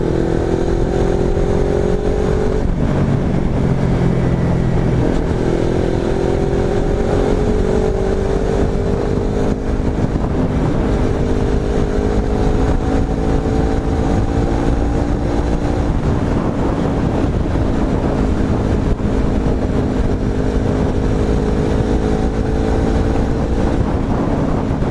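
A Kawasaki Ninja 300 motorcycle engine runs steadily with a clean, freshly unclogged intake, its revs rising and falling in smooth steps, close and loud under heavy wind buffeting.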